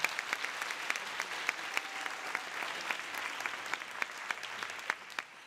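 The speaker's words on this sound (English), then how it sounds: "So let's applaud them." An audience at a university convocation ceremony applauds, a steady, moderately distant wash of clapping with distinct sharp claps popping out across the whole stretch.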